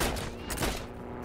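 Bursts of gunfire ring out in the online World War II shooter game Heroes and Generals, a quick rattling volley with echoing tails over a short moment, fairly loud and close.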